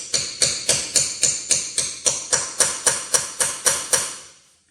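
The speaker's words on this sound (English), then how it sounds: "you're going to hammer it as far in as it can go" Hammer driving a socket onto a swollen Ford lug nut, about fourteen evenly spaced loud metallic strikes with ringing decay, close and steady, the last one fading out.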